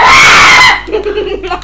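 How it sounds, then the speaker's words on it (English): A loud, sustained high-pitched scream in a game's battle mode bursts out at close range, then cuts off abruptly as quieter speech and laughter-like sounds follow. "stop screaming!"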